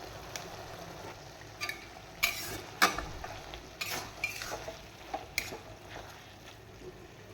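Banana flower curry (mochar ghonto) with chili powder being stirred in a pan, giving a soft scraping, shuffling texture with occasional sharp utensil clinks against the pan, moderately quiet with no talking.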